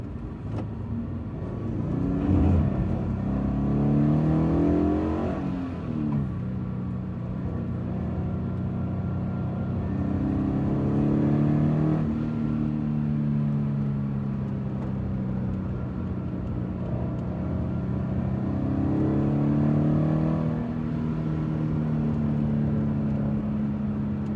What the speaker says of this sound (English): On this main straight though, was about the only place I could really push the car in this wet weather.